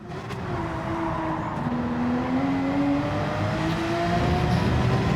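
Race car engine in a racing video game roars continuously and loudly, pitch climbing steadily as it accelerates through the gears, with no talk over it.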